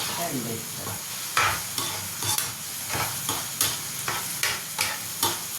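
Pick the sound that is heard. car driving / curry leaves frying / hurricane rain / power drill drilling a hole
curry leaves frying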